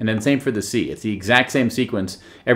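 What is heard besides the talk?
None of the usual background noises is heard.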